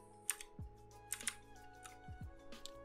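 Quiet keystrokes on a computer keyboard as a command is typed, a handful of soft clicks in short uneven bursts, close and faint with no talk.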